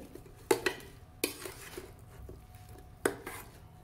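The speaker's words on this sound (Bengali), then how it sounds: "এতে চিংড়িটা ঢেলে দেবো।" Prawns are tipped into a fig mixture and stirred, giving a few sharp clinks of a utensil against a bowl or pan between soft scraping strokes, close but quiet with no talking.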